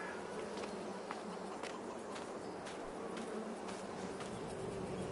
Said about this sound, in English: Now the beehives are full of bees.